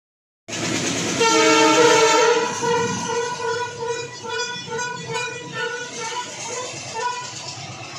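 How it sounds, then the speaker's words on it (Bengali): A train pulls into a station and sounds a loud, sustained horn blast over the steady rumble of the rolling carriages; the horn fades gradually as the train keeps moving. "তো ট্রেনটার একবার আওয়াজ শোনো"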